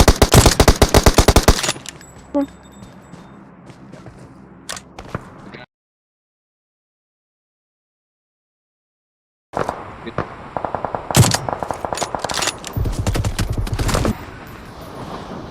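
Bursts of suppressed MG3 machine gun fire in a video game, rapid clattering volleys at the start and again after a few seconds of dead silence, with dense repeated shots toward the end.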